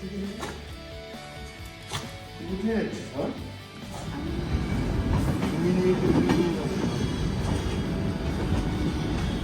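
An Indian Railways train travelling between Delhi and Kolkata rattles and rumbles, with wheels clattering on the track growing louder and steadier after a few seconds, and a voice talking over it early on.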